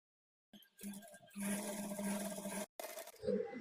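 A sewing machine runs a top stitch along a kid's peplum blouse lining, a steady whirring burst of about two seconds with a short pause, then starting again, close and fairly quiet.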